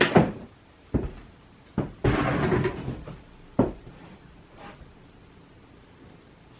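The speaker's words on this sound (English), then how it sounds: "I also want to see how the door does when it opens up here." A cabinet door in a workshop is handled, giving a few sharp knocks and clunks followed by a longer rattling, scraping movement, then more separate taps, all close by with no talking.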